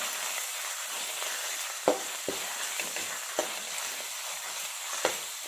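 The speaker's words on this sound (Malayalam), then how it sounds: "ഇതെല്ലാം ചേർത്തതിന് ശേഷം ഇതെല്ലാം നന്നായിട്ടൊന്ന് ഇളക്കി ചെറുതായിട്ടൊന്ന് മൂപ്പിച്ചെടുക്കുക." Onion, green chili, ginger and garlic frying in a pan for a mushroom masala, a steady soft sizzle with a few distinct clinks of a spoon stirring, close and moderately quiet, with no talking.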